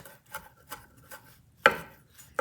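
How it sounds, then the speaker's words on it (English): A knife chops parsley on a board for Argentinian chimichurri, giving a few soft, evenly spaced cuts followed by one louder, sharper chop, close and without talk. "So you start cutting it in tiny pieces."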